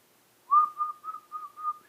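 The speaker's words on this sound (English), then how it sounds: "to whistle, I have to really tighten my mouth." A person whistles with tightened lips, a clear single-pitched tone broken into about five short rhythmic bursts over a second and a half, close and alone in an otherwise quiet room.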